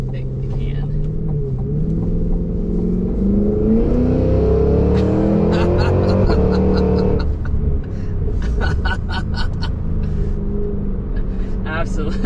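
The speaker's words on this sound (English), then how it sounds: "it is absolutely crazy that this can accelerate like it can" A 2023 Cadillac Escalade V, extended-wheelbase and heavy, accelerates hard with a loud rising engine roar that climbs through gears, a brief dip at a shift, while a person talks over it.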